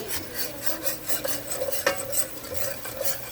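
A utensil scrapes and stirs steadily across the bottom of a pan of stewed chicken cooking in a browned roux with stock, rhythmic rasping strokes close up and quiet, with a faint simmer underneath.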